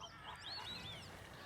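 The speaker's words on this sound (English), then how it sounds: "the flamingo flocks here at Slimbridge are not just a riot of colour, but they're also a mass of different sounds as well" A flock of flamingos calling at Slimbridge wetland reserve, a dense babble of honking, goose-like calls overlapping at a moderate distance, with a few rising call notes standing out above the steady group noise.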